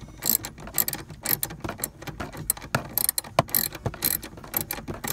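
A ratchet wrench backs out bolts holding a car's seats, giving rapid, close, sharp clicking in dense uneven bursts with brief pauses throughout.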